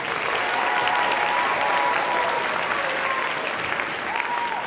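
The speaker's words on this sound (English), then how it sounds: "Give them a round of applause." Steady audience applause in a school theater for the student director and assistant director of a one-act farce, dense and even clapping throughout.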